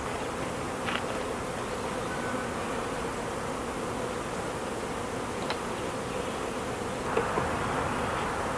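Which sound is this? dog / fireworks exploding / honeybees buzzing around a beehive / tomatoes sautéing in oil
honeybees buzzing around a beehive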